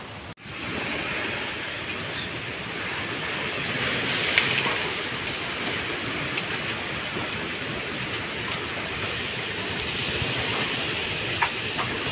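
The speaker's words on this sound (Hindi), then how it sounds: "बहुत भयंकर पानी गिर रहा है यार, बहुत भयानक मौसम बना है" Heavy storm rain pours down in a dense, steady hiss that holds for the whole stretch without a break, loud and close, with no voices over it.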